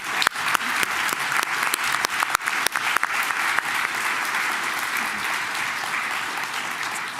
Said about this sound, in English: Please join me in a very big round of applause.